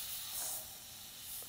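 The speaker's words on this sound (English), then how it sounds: "Okay, so saying that, I will start spraying." An aerosol spray paint can hisses in short, soft bursts while a fantasy art piece is painted. The steady airy spray swells and fades twice, close by, with no talk.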